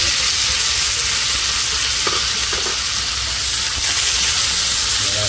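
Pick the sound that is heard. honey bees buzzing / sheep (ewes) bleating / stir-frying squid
stir-frying squid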